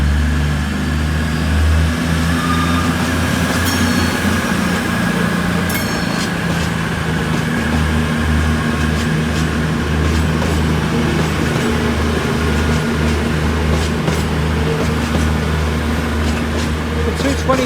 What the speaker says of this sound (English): the delayed 1252 cross-country service from Plymouth to Edinburgh, 22012 leading the train